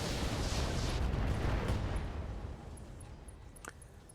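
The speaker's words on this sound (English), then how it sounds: "Firing all weapons." Heavy mech weapons in RogueTech, a BattleTech game, fire in a loud rumbling barrage of blasts that fade into a trailing roar with a few late pops.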